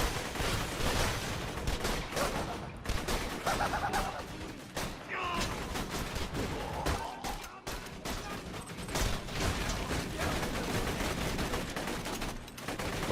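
Rapid gunfire from the Herald gun in Borderlands 2's Captain Scarlett DLC, dense continuous bursts of shots with game effects layered throughout, loud and steady from start to finish.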